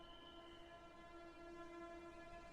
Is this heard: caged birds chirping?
no